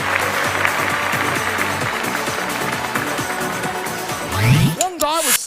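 A comedy show audience claps for a guest taking his seat, dense applause that fades and then gives way to voices and whoops near the end.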